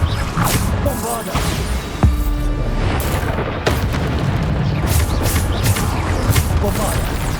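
Bombarda blasting spells in the Hogwarts Legacy video game, several heavy booms and sharp bursts going off amid dense, loud combat noise with whooshes and clatter throughout.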